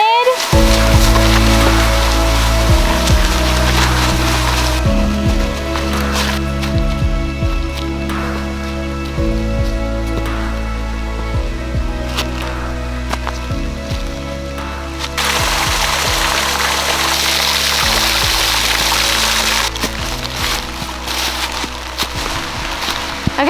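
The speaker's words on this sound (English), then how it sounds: "so it's really raining on us" Heavy rain pours down outdoors along a parkway stop, a dense continuous hiss with patter and water noise throughout, while people talk intermittently underneath.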